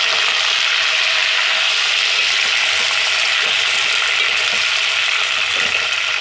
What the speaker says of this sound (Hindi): यहाँ हमारी जो है प्याज ब्राउन हो गई है, अब इसमें जो है चिकन ऐड कर देंगे